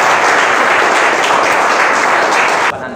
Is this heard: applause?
yes